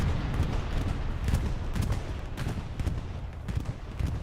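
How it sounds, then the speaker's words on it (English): Bombing run explosions in the Hell Let Loose video game: a dense, continuous wash of booms and gunfire-like cracks, loud and rumbling, with repeated sharp impacts throughout. "There's a bombing run going off"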